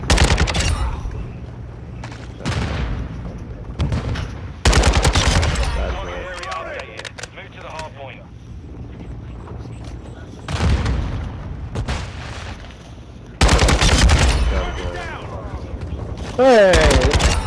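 Kastov 762 assault rifle fire in Modern Warfare 2 multiplayer: several loud, sharp bursts of rapid automatic shots separated by quieter gaps, with voices talking between them.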